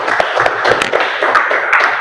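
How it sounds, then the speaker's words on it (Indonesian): Classroom audience clapping together for a student's poem recital, a steady burst of dense overlapping claps with no talk over it. "Ya, tepuk tangan."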